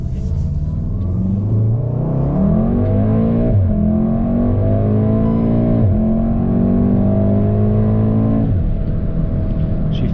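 A tuned Mk7 Golf R with a small turbo accelerates under light throttle, its engine note rising steadily in pitch through several gear shifts, loud and close from inside the car with no talk over it.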